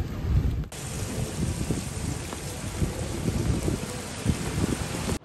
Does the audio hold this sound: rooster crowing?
no